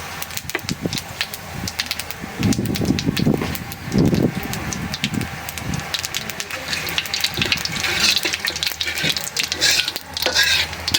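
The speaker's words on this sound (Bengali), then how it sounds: "সেই তেলে আর একটু তেল দিয়ে দিলাম, দিয়ে দিলাম জিরা, তেজপাতা, শুকনো মরিচ" Cumin, bay leaves and dried chillies fry in hot oil left from frying gojar fish, a steady close sizzle with bursts of crackling and stirring, no talk over it.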